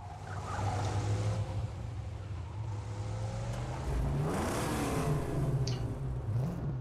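V8 car engine in Mad Max, a deep throaty roar that revs up and down in several swells, close and loud, the pitch climbing and dropping with throttle and no voices over it.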